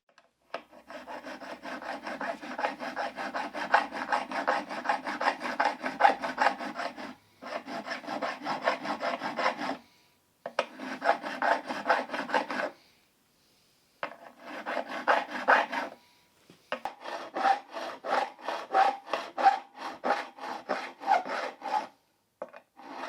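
Metal file rasping across the frets of a 1973 Fender Telecaster during restoration, rounding and crowning the fret edges in a workshop; steady close strokes in long bursts separated by brief pauses, with no talk.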